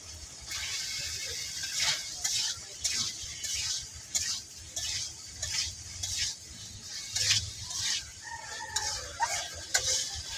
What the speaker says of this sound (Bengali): আমি আলু দিয়ে আর আলু ভেজে নিতেছি